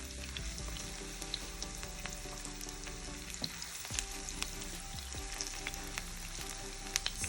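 Food turned over and frying in hot oil on high heat, a steady close crackling sizzle with sharp pops and spits throughout, no voices.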